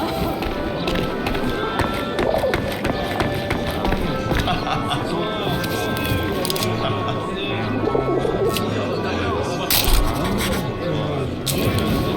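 A pigeon-like bird coos in the game 11-11: Memories Retold, soft repeated low calls rising over a dense bed of ambient noise and scattered clatter, with voices talking alongside.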